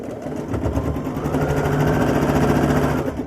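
Sewing machine stitching cotton fabric with a presser foot, a steady close mechanical whir with a rapid regular needle rhythm that holds even throughout, with no voices.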